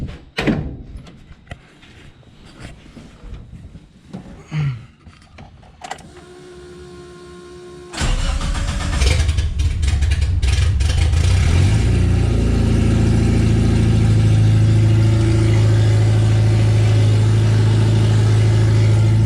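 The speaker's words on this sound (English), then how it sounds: "I'll start it up for you guys. It's pretty loud, but just so you guys can hear it run" After some clunks and handling noises, a Suzuki Samurai engine cranks, fires and settles into a loud, steady rumbling run close by, with no exhaust fitted yet.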